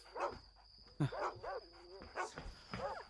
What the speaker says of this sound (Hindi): इन कुत्तों को क्या हुआ?